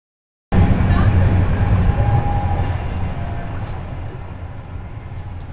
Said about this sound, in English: Standing between rail cars, doors open, close, and one train passed by.